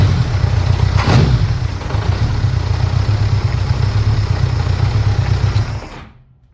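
A 1982 Honda Goldwing Interstate engine converted to a single VW carburetor runs steadily at a loud, close idle with an even mechanical clatter, then cuts off abruptly near the end.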